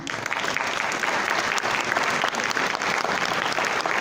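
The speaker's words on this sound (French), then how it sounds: "J'aurais que vous l'applaudissiez." An indoor audience at a mayor's New Year address applauds steadily, a dense wash of many hands clapping at even loudness for the whole stretch with no voices standing out.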